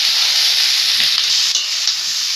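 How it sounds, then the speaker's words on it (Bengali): Vegetables frying in a pan for chicken soup give a loud, close, bright sizzle that hisses steadily, with a few faint stirring knocks and no speech. "এমনি করে সবজিগুলো ভালো করে ভেজে নেবে"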